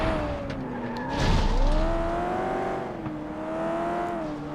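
A derby car in the PS2 racing game FlatOut 2 slams into an Armco barrier on a tarmac circuit, a short broadband crunch cutting through steady droning engine tones and tire noise.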